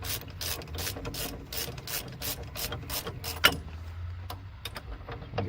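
A hand ratchet tightens brake caliper bolts on a 1995-2007 Ford Econoline during front brake work, its rapid, even clicking strokes running steadily up close, then pausing briefly before a few more clicks.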